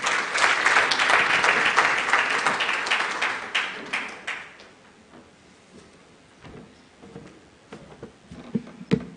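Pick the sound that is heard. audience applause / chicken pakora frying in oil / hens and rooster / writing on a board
audience applause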